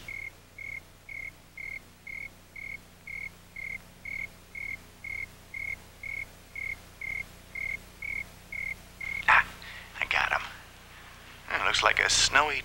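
An indoor cricket chirping in an even, regular rhythm, about sixteen short chirps at a steady pace, fairly faint, followed near the end by louder bursts of other noise.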